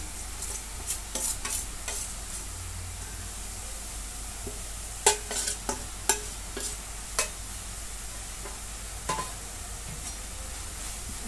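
Grated pumpkin and chopped jaggery are sautéed in a pan. A quiet, steady frying hiss runs throughout, broken by a scattering of sharp spatula scrapes and stirs, with no talking.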